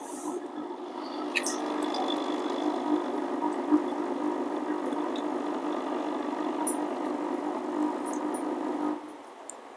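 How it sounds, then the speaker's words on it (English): The grinder on a Barsetto BAE 02 bean-to-cup espresso machine runs as a steady, fairly loud mechanical whir and hum for about nine seconds, then cuts off abruptly, with a few faint clicks and no talk. "So that is the loudest you can hear on the grinder when you pull a shot."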